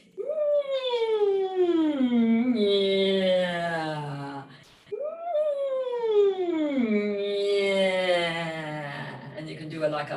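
A human voice imitates a siren, making two long wailing glides that sweep up high and slide slowly down, with a short breath between them.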